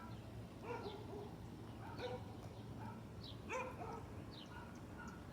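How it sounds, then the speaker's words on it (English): Dogs bark and yip in several short bursts at a distance, faint over outdoor background noise, with no one talking over them. "always got dogs barking in the video"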